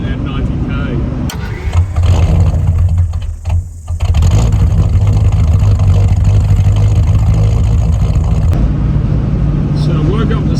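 A Land Rover cruising at about 90 km/h fills the cabin with a loud, steady engine drone and road roar, broken by a brief dip near the middle, with a voice talking over it.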